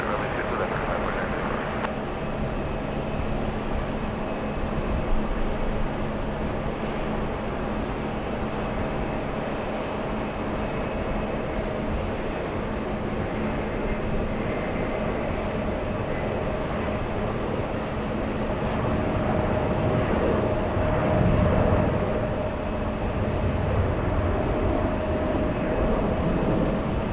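An airliner taking off from runway 22 left at JFK airport, a steady broad jet engine roar heard from a distance, swelling slightly near the end, with faint talk beneath.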